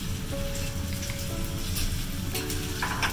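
Teppan fried rice frying on a hot griddle, a loud, steady close-up sizzle with crackling spatter and faint metallic scraping throughout.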